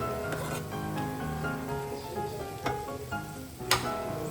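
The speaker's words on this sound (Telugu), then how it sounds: "మీడియం ఫ్లేమ్లో ఒక ten to fifteen minutes fry చేసుకుంటే సరిపోతుంది" Ivy gourd (tindora) frying in oil over a medium flame, a continuous close sizzle with a few sharp crackles and pops, no voices.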